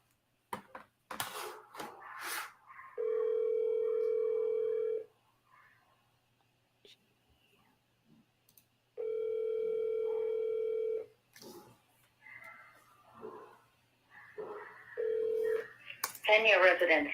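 A phone places an outgoing call, giving two long, steady ringback tones about five seconds apart and then a shorter third tone. Brief voices and rustling come between the tones, and a louder noisy burst sounds at the end.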